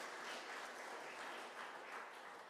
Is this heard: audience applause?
yes